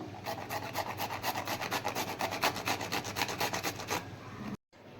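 Capsicum, carrot and potato being grated by hand, a steady run of rhythmic rasping strokes close up, about twenty quick scrapes in a row before a brief pause near the end; no voices.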